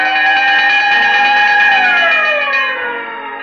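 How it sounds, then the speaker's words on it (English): A wailing siren sounds together with a bell, its sustained tones holding steady and then sliding downward in pitch as it winds down, loud and alone with no talk. "Whenever you hear the siren and bell,"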